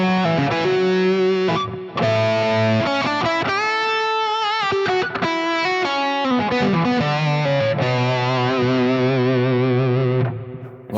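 Electric guitar runs through a Vemuram fuzz pedal, producing a thick, buzzy, synth-like distorted tone with steady sustained notes and quick melodic changes, loud and continuous throughout.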